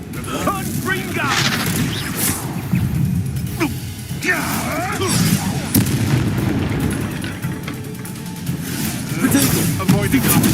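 A Confringo fire-blast spell cast in the Hogwarts Legacy video game, booming amid continuous loud game combat noise with repeated bursts and crackling impacts across the whole stretch.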